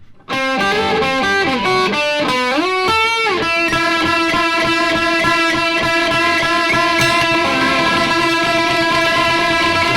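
A distorted electric guitar plays a lead line with bending, sliding notes, then settles into sustained, ringing tones, loud and continuous with no voices.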